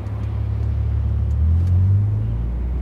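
A Volvo C30 fitted with a new aftermarket exhaust idles and creeps through slow stop-and-go traffic, giving a steady deep rumble heard from inside the car, which rises briefly as the engine pulls a little harder.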